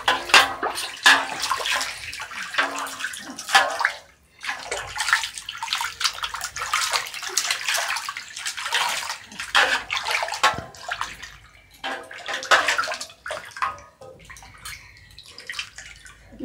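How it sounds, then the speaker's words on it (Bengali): A child splashes bathwater with hands and feet, making close, irregular bursts of splashing and sloshing, with a brief pause midway before the splashing resumes. "আর হাত দিয়ে পা দিয়ে খালি জলটা ছিটাবে।"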